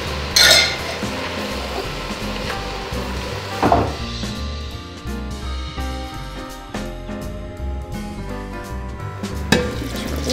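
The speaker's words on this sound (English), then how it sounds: "Here, I'll stir it." Borscht being stirred in a cooking pot, with a utensil clinking and scraping against the pot at irregular moments over a steady busy kitchen background, with louder knocks near the start and end.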